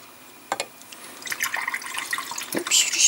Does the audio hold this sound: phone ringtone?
no